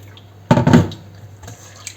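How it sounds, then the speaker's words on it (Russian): Water poured into flour in a pan while cooking at home: a short, close splashing burst that fades quickly into near-silence. "Теперь мы сюда добавляем немного воды"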